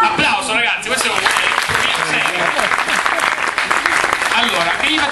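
Audience applause at an Italian conference talk, a steady dense clapping that fills the whole span loudly, with voices mixed in.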